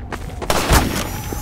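Shotgun firing in the video game Half-Life 2 Episode 1: one short, booming blast with a heavy low thud, close and loud over a dense layer of game noise.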